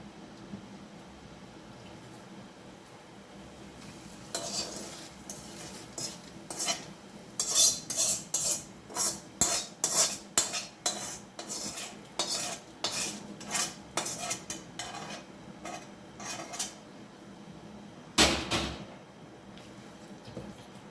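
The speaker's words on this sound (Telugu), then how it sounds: "ఇప్పుడు ఈ తాలింపు ఇందులో వేసేసుకుందాము" Hot tempering is stirred into tamarind chutney: a run of close, bright metal spoon clinks against a bowl in an uneven rhythm, with no voices.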